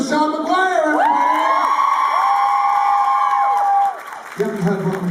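A convention panel audience for actor Sean Maguire at a Once Upon a Time fan event in Toronto cheers loudly, with close, sustained whoops and shouts over clapping before the noise drops off near the end.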